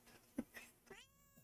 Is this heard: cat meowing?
yes